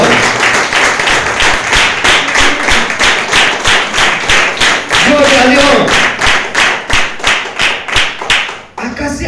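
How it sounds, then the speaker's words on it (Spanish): A church congregation claps in a strong, regular rhythm, sharp evenly spaced claps repeating throughout, while a preacher calls out praise over them and a brief sung tone rises midway. "denle fuerte el aplauso al Señor"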